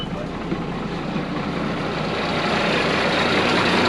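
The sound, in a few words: truck engine running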